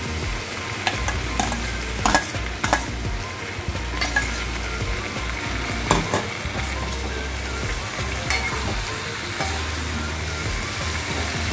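Pumpkin and potato stir-fried together in a pan for a prawn and pui greens curry, giving a steady close sizzle with repeated scraping stir strokes throughout, no voices.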